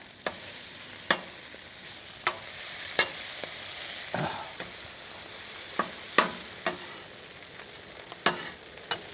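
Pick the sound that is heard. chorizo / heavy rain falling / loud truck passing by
chorizo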